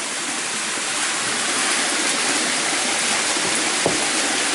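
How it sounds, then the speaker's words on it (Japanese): Steady broadband rush of a waterfall at a Fudō shrine, heard up close and loud, filling the clip without pause, with a single small knock near the end. "滝です。"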